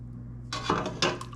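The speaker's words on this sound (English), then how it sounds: "I'm going to start off with just a ladle full of chicken stock. And we're going to mix it in." A ladle of chicken stock stirred into a pot of dressing, heard as a brief clatter of the metal ladle scraping and clinking against the pot, two quick bursts close by.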